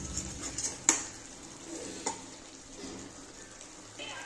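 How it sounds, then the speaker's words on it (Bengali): A spoon stirs mutton kosha in a pan with a soft, steady scrape and sizzle, broken by a couple of sharp utensil knocks against the pan, close and fairly quiet. "একটু নেড়ে দিচ্ছি।"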